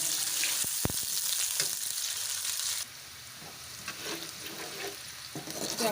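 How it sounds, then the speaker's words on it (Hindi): Onions sizzle steadily in hot oil, a loud, close, continuous frying hiss with occasional stirring scrapes and one sharp clink. "ऑयल जब गरम हो जाएगा तो फिर इसमें हम प्याज ऐड करेंगे।"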